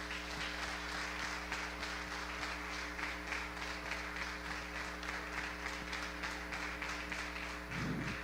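A church congregation at a Sunday celebration service applauds, giving a steady wash of many hands clapping over a constant low hum from the sound system, fairly distant and even throughout.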